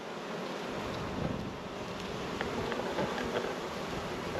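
Honey bees buzz around their queen and her attendants inside a hive, a dense, continuous close-up hum with soft crackling movement and no voices.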